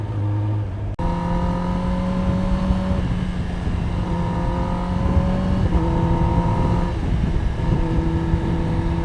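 A Kawasaki ZX10R revved inside a tunnel at night, a loud, booming engine note that holds and rises in several sustained pulls, echoing around the enclosed space, with wind buffeting the microphone.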